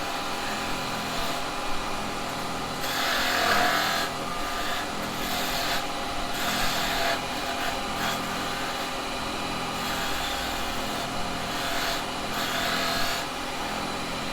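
A carbide chisel cuts a spinning wood blank on a lathe while roughing out the shape, producing a continuous, close scraping hiss that swells and eases in repeated passes, with no talking.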